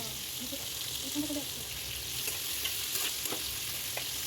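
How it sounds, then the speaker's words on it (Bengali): Fried onions with a pinch of salt stirred in hot oil for mutton kosha, a soft, fairly faint sizzle with light scraping strokes, and no speech. "এখন সামান্য একটু নুন দিয়ে কিছুক্ষণ আমি এই পেঁয়াজ ভাজাটাকে নাড়াচাড়া করব"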